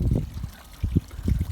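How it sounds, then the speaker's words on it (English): Small solar-powered pond waterfall: water splashing and gurgling in uneven, low bursts, close by and fairly soft. "waterfall running on solar"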